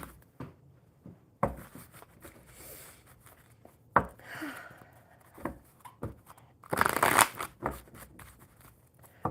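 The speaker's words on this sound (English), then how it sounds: "One more good shuffle." Playing cards being shuffled close by in several quick riffling bursts, with soft handling rustles and taps between them.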